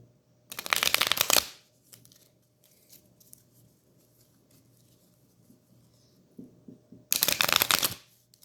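A deck of playing cards is riffle-shuffled twice, each a quick fluttering burst about a second long, separated by a quiet stretch of soft handling.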